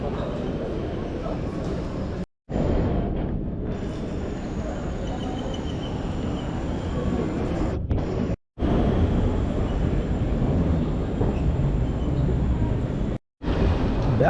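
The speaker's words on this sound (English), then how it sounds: "Back on this amazing bullet train" Inside a high-speed bullet train running to Tangier, Morocco, a steady loud rumble and rushing hum fills the cabin, broken by three brief dropouts.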